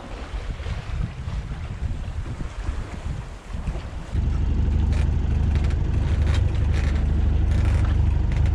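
A sailboat's engine running in choppy Bristol Channel water off the Welsh coast in a 10-knot easterly wind. Wind and water rush dominate at first, then a loud, steady low engine drone kicks in and continues under the gusty wind noise.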